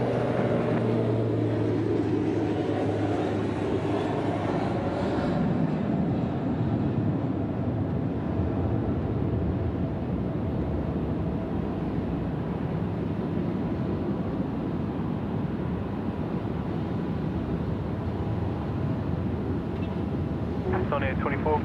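An Emirates airliner at Sydney Airport gives a loud, steady jet roar that holds through the whole stretch, close and broad, with a voice talking over it for a while.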